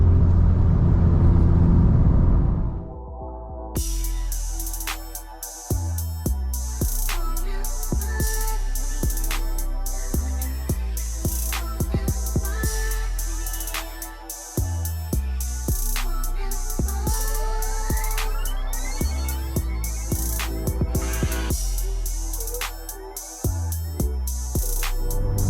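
A Ford Mustang drives a winding mountain road, its engine droning steadily with repeated rises and falls in pitch as it accelerates and eases off through bends, loud and continuous from inside or near the car.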